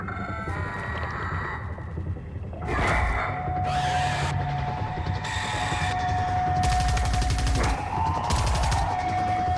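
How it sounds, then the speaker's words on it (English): A submachine gun in the video game Marathon fires several rapid bursts of varying length over a steady background tone, loud and close, with no talk. "So that's a new weapon, it's a submachine gun."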